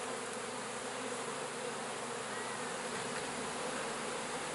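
A dense swarm of honeybees buzzes around an open hive frame holding capped brood and nectar, a continuous close, loud hum with no voices.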